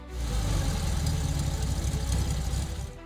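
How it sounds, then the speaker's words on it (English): Volkswagen Kombi engine running, a steady, loud low rumble with a rapid knocking pulse, close by and continuous for about three seconds with no voices. "the distinctive engine sound of the Volkswagen Kombi"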